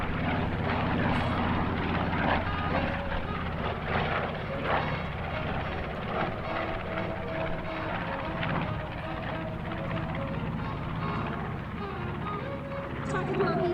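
A B-25 bomber named Panchito passes at an air show with a broad, steady propeller-engine drone that stays loud throughout, with a voice talking over it.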